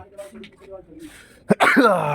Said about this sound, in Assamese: চৰ্দি কাহ লাগিছে ঐ ঠাণ্ডাত